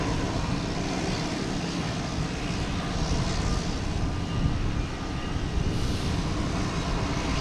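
Airliner climbing out after takeoff from Boston Logan Airport, bound for Tokyo and turning near Castle Island, heard as a broad, steady jet roar with a heavy low rumble that holds without a break.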